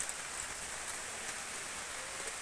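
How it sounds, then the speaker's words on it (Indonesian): Light drizzle falling steadily just after a heavy downpour, a soft even hiss of fine drops with no talk. "Itu gerimis ya, baru saja tadi hujan lebat."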